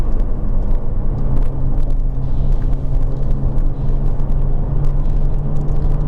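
Low, steady engine and road rumble heard from inside a Jaguar F-Type on the move, with a constant droning hum and faint tyre and wind noise and no talking.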